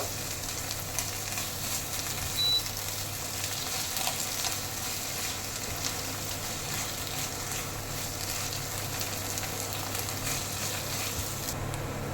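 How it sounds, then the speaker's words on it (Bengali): Ginger garlic paste fries in a pan while being stirred, a steady, close, continuous sizzle that holds evenly throughout with no talking. "জিঞ্জার গার্লিক পেস্টটা দিয়ে 2 থেকে 3 মিনিট মতন নাড়াচাড়া করে নিয়েছি"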